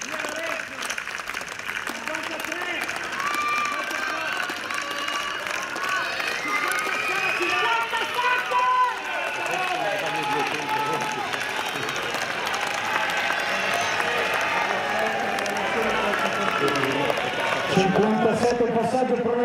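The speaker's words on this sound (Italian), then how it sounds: "voglio che siano 1600 metri di applausi" A stadium crowd in Milan claps steadily through a mile race, the applause a dense continuous wash beneath a loud announcer's voice.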